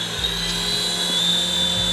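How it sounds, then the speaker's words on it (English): Eachine Tracker H101 indoor toy helicopter flying in a room, with a steady high-pitched rotor and motor whine that holds close and fairly loud throughout, and no talk over it. "it has been a while since I've flown a helicopter indoors"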